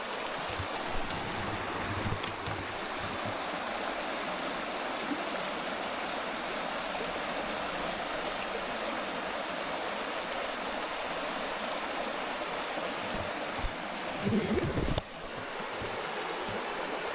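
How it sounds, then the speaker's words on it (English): Creek water in the Walker high country rushes steadily and loudly nearby, a continuous broadband flow with a couple of brief knocks near the end. "we got a creek that runs right along here"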